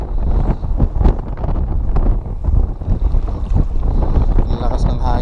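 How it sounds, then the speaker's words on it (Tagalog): Strong wind roars steadily and loudly across the microphone while out fishing, a constant buffeting rush with no clear pauses and no speech. "Ang lakas ng hangin, grabe."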